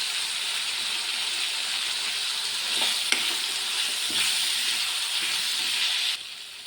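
Potatoes frying with turmeric in a pan give a continuous, even sizzle with a few faint stirring scrapes, ending in a softer hiss.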